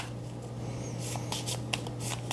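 A stack of Fallout board game cards is shuffled, giving short papery riffling bursts over a steady low hum, close by with no talking.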